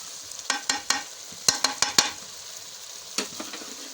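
Kaleji (liver) stirred in a pan with dry masala for dhaba-style kaleji masala, giving a run of close, sharp scraping and clattering stirs in quick bursts over a soft steady sizzle, no voices.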